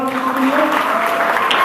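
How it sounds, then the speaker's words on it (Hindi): Loud, sustained applause from a school audience at a quiz match, a steady dense wash of clapping that fills the whole moment without a break. "क्लैपिंग हो जाए एक बार जोरदार"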